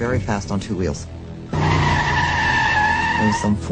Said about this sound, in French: En une fraction de seconde, j'étais de retour dans la voiture, conduisant sur les chapeaux de roue